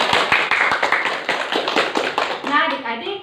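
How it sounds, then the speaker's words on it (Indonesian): A group of children at a Sunday school session clapping their hands in rapid, uneven claps close by, with children's voices calling out alongside and toward the end. "Tepuk tangan."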